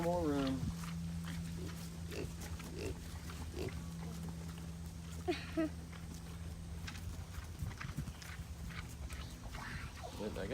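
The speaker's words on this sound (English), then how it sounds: "Come on, little piggies." Piglets on a farm grunt and snuffle as they come up to eat from a pan, a busy rumble of animal noise with a steady low hum beneath and a person talking over it.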